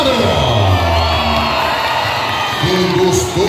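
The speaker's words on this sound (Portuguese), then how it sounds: "Quem gostou, dá um grito e bate palma." A circus audience at Babilônia Circus in Campos dos Goytacazes, Rio de Janeiro, cheers and shouts loudly and continuously, with whoops and a voice calling out over the crowd.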